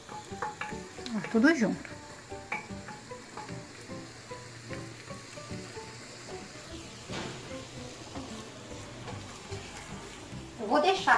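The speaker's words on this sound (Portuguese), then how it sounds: "Dá uma bela de uma refogada." Beans and seasonings sizzle and crackle in a hot pan while being stirred, a steady frying hiss under occasional speech and clinks of a utensil.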